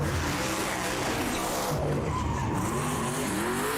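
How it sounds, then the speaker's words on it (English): The Hoonicorn race car in a drag race rips through a loud, sustained tire squeal and skid over a roaring engine, alone and at close range. "we are going to race the Hoonicorn versus the world. Drag race."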